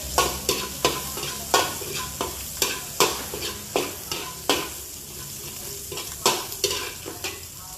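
Chili peppers sauté in a hot pan with a constant sizzle, while a utensil stirs and scrapes in regular strokes roughly every half second, close up with no talking.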